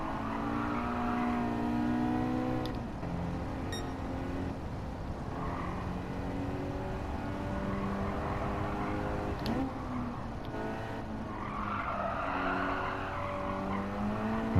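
Race car in a Gran Turismo time trial, engine held at a steady high whine with rising and falling pitch through gear and throttle changes, tires squealing through corners, continuous and close.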